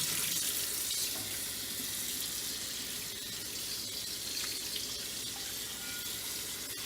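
Warm tap water runs steadily into a wok in a kitchen sink as the pan is rinsed clean of aromatics, a continuous close splashing hiss with no speech.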